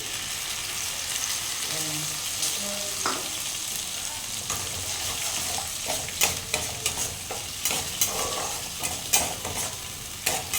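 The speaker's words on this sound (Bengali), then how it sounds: "দুটোকে একটু ভালোভাবে তেলের উপরে একটু ফ্রাই করে নেব" Ginger paste, tomato and dried chilli puree fry in hot oil for a vegetarian dhokar dalna, a steady close sizzle broken by repeated scraping stirs and clinks that grow busier toward the end, with no talk.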